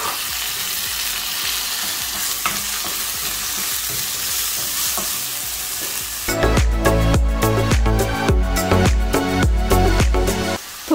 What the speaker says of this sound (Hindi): थोड़ी देर तक इसको भून लेना है प्याज का कलर चेंज होने तक